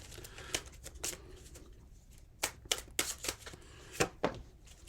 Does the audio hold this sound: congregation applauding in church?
no